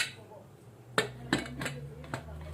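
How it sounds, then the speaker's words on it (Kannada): A metal pressure cooker lid is fitted onto the cooker in a home kitchen, giving four or five close metallic clanks and clinks spread over a couple of seconds against a quiet background. "ಇವಾಗ ಇದಕ್ಕೆ ಕುಕ್ಕರ್ ಡಕ್ಕಣ ಹಾಕೋತೀನಿ ರೀ."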